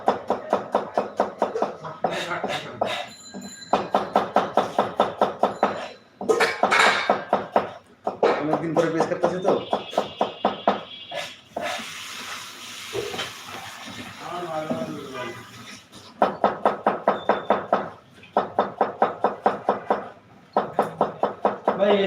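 A knife chops onions and carrots on a board in rapid rhythmic bursts of sharp, close knocks, broken by short pauses and stretches of quieter handling, with voices talking in the background.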